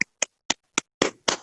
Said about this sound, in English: Round of applause, my fine fellows.